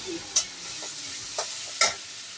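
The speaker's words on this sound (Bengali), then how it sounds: "সব মশলাটা কিন্তু আমি তেলের মধ্যে দিয়ে দিয়েছি দিয়ে এবার আমি সুন্দর করে কষিয়ে নিচ্ছি" Spices stir-fried in hot oil for a banana flower curry, a steady close sizzle broken by three sharp scraping strokes of the spoon across the pan.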